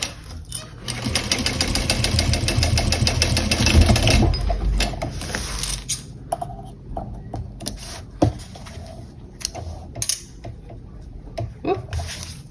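A sewing machine backstitches a flap onto a small bowler bag, running in a fast, steady mechanical rattle for about four seconds, then stopping into quieter handling clicks and taps, with a voice talking faintly.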